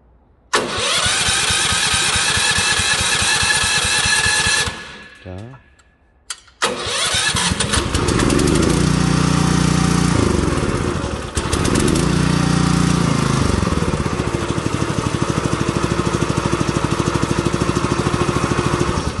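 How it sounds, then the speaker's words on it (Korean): A small engine, apparently fitted with a battery and key start, cranks briefly, cuts out, then catches and runs loudly and steadily with a throttled-up drone that rises and falls slightly for the remaining seconds, no voices heard. "지금 배터리가 지금 장착이 되어 있으니까 얘는 시동이 걸리겠지"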